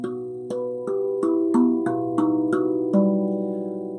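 A tuned drum is struck by bare hands about nine times in a steady rhythm, each note ringing with a bright attack and a clear pitched tone.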